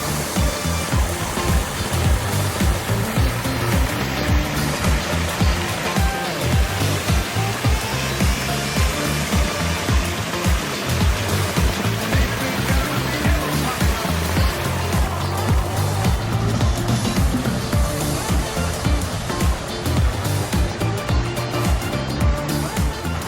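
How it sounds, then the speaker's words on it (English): A garden waterfall tumbling into a pool, a loud, continuous rushing and splashing roar that holds steady throughout without any talking. "you can see the waterfalls comes down here"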